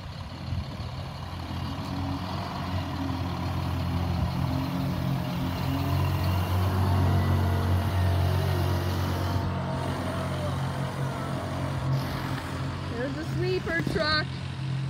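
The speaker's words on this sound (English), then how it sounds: "here's the water truck" A street-cleaning water truck rolls past on a Calgary road on a smoky day, its low engine rumble steady and loud throughout, with faint beeps near the end and children's voices chattering around it.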